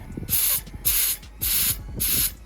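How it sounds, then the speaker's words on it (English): Four loud, even bursts of compressed air hiss through the OEM twin turbos of a 2JZ engine, each lasting about half a second with brief pauses between, heard close up with no talking. "So to make sure they were functional and they were working properly, just some compressed air"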